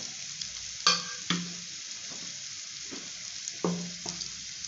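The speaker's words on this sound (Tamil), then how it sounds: "சூப்பரான முட்டை ஃப்ரை ரெடி ஆகிட்டே இருக்குது" An egg fry cooks in a pan of oil, giving off a steady close sizzle broken by a few sharp scrapes and stirring knocks from a utensil.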